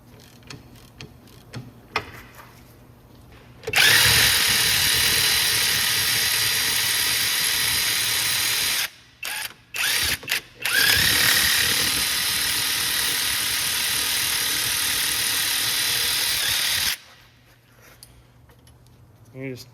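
Ratchet working the two 18 mm caliper bracket bolts on the rear brakes of a 2010-2016 Cadillac SRX FWD, a loud continuous run of rapid clicking broken by a few short pauses, with quieter handling noise before and after.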